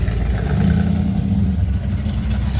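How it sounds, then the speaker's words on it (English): A custom car at an evening cruise-in revs hard with a slipping clutch, a steady loud low engine roar that holds throughout with no voices. "clutch slip there from the sounds of it."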